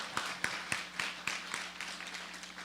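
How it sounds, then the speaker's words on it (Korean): A church congregation claps in a light, fairly quiet patter of scattered hand claps, with a few sharper individual claps standing out over about three seconds. "박수하겠습니다."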